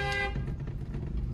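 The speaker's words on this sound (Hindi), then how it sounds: "कतई लंबा हॉर्न दो, लंबा बजाते रहो, बजाते रहो जब तक मैडम बाहर ना आ जाए।" A car horn honks once, a short clear toot at the start, followed by low engine and street rumble in a narrow lane.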